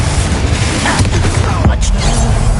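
Spell explosions from Bombarda and Confringo in the video game Hogwarts Legacy: loud, dense blasts and rumbling booms that fill the whole short stretch, with a sharper impact near the middle.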